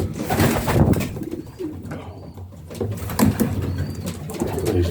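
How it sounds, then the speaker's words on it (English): Pigeons coo in a loft, soft low throaty calls repeating close by with some rustling between them. "These nice pigeons."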